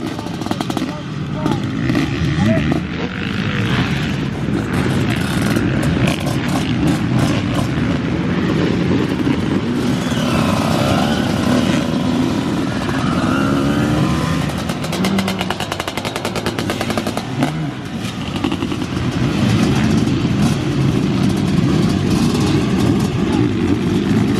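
A two-stroke motocross bike engine roars and idles close by throughout at a Toddington motocross event, raspy and uneven, with occasional revs rising over a steady mechanical drone.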